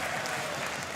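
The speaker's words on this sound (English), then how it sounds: "You hear the crowd go wild." A dense, roaring crowd cheers and applauds without a break at the Clash Royale League World Finals esports event, loud and sustained throughout.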